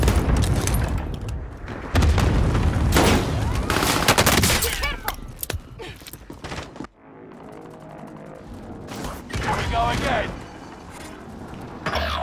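Gunfire in Call of Duty: Modern Warfare multiplayer, with loud bursts of rapid shots and booms in the opening seconds, a brief lull, then more shooting, while players talk over the action.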